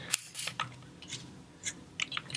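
A Hot Toys Hasbro Transformers Optimus Prime action figure's ratcheting arm joint gives a handful of sharp, close plastic clicks spread unevenly over a couple of seconds in a quiet room.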